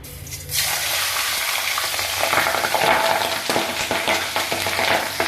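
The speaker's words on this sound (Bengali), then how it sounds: "দেখো তবু কত ফুটছে।" Pabda fish frying in mustard oil give off a loud, steady sizzle that continues throughout with no voices, beginning abruptly after a brief quieter moment.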